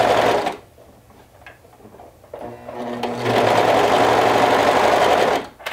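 A sewing machine stitches a cuff in two bursts: a brief run at the start, a quiet pause with faint handling noise, then a longer steady whirring run that stops near the end.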